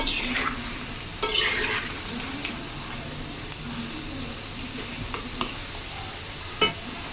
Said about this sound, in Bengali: আমি এইভাবে নেড়ে নেড়ে লাল লাল করে ভেজে নিচ্ছি